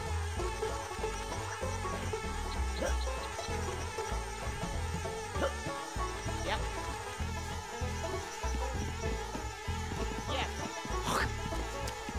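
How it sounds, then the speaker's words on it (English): Bees drone in the Xbox game Conker: Live and Reloaded, a continuous buzzing hum that swells and fades in overlapping waves over a low game ambience, with no talking. "Hope you like the droning sound of bees."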